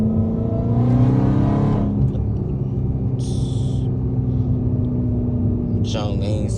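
A Dodge Charger Hellcat SRT with its supercharger droning steadily and loudly from inside the cabin as the car drives, a constant engine rumble underneath with brief higher rasps and a rising shift near the end.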